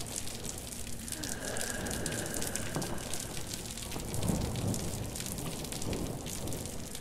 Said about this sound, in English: I don't think I need to go into the rain.